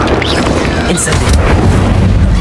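In the video game Hogwarts Legacy, an Incendio fire spell erupts as a loud, booming blast with a rushing burst of flame, heavy and continuous across the moment.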